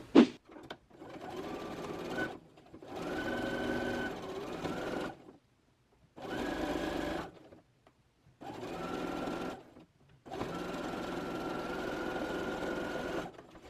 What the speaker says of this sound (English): So you're just going to flip the bottom one and sew along this line.